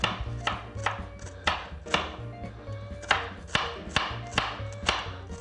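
Knife chopping ingredients for Italian chili on a board: about a dozen crisp, evenly spaced strikes, close and distinct over a faint low background hum.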